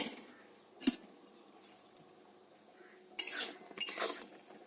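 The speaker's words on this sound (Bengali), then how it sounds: "এই গ্যাসের মধ্যেই এরকম ভাবে নাড়াচাড়া করে নেব, তাহলে একটা ডোয়ের মতন হয়ে যাবে।" Rice flour dough being stirred in a pan on a gas stove, a single sharp utensil knock followed by a few scraping, clinking bursts against the pan near the end, close and fairly quiet.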